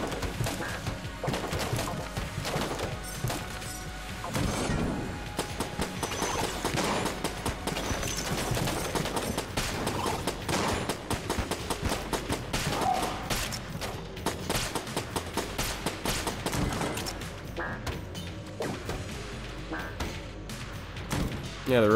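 A robot's gun fires in the dungeon shooter Enter the Gungeon, a long, rapid stream of sharp shots rattling continuously at moderate volume with a few crashes mixed in.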